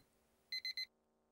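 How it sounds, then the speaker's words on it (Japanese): A visual novel game's alarm clock rings as three quick, evenly spaced bursts of high electronic beeping, crisp and clear over a quiet background, then stops abruptly with no talking. "這うようにしてベッド降りて目覚ましを止めた"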